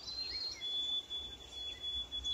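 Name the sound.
birds calling to each other in spring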